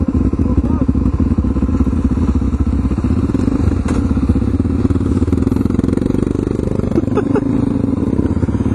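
Motorcycle riding on a tar road, with continuous loud engine rumble and wind buffeting throughout, plus occasional clatter and thumps from the road surface.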